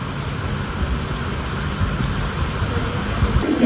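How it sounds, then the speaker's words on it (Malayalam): Steady rain hisses without pause at Mangalore Central railway station, with a low rumbling undertone beneath it. "ഇപ്പോഴാദ്യം പിന്നെയും മഴ വന്നു കേട്ടോ"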